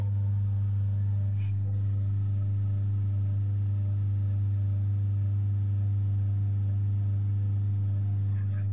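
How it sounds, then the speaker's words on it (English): A car engine idles with a low, steady rumble throughout, revs creeping up, holding a constant drone with no voices; the car has a repeatedly blocked diesel particulate filter. "Sorry, the revs are creeping up there."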